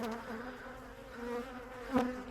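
Honeybees buzzing around an opened beehive during an inspection, a close, steady drone with a louder swell near the end as one passes by, with no talking.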